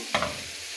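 Ash gourd tossed into a pan of spices fried in oil, giving one sharp burst of sizzle and clatter that quickly settles into a steady low frying hiss.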